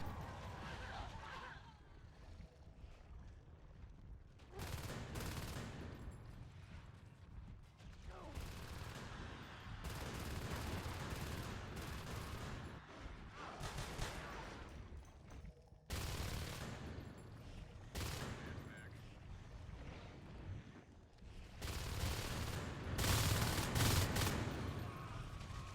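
Rifle gunfire in the video game Natural Selection rattles in repeated rapid bursts across the clip, loud and close, with a faint voice in the background.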